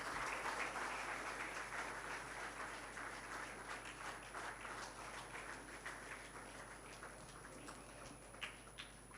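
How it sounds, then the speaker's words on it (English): A large audience applauds steadily at a youth convention as dignitaries, two swamis, are welcomed onto the dais; dense sustained clapping that slowly thins toward the end, with a faint steady hum underneath. "Swami Bodhamayananda Ji Maharaj onto the dais with a big round of applause"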